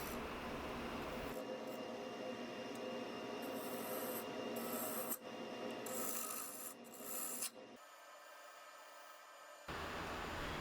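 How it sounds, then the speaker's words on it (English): A bowl gouge makes final passes on a lidded wooden box spinning on a wood lathe held in a four-jaw chuck with the tailstock engaged. A steady, close scraping rasp runs continuously, dropping out briefly before resuming. "Making some final passes with the bowl gouge."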